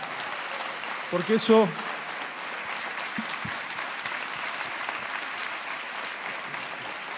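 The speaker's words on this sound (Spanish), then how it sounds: "Y eso sí lo quiero aplaudir." Dense, sustained audience applause fills the hall at the opening ceremony of the VI AMGBA Congress, with a brief spoken phrase near the start before the clapping continues steadily.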